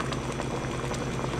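A pot of crab and squash boils, producing a dense, continuous bubbling and gurgling close by.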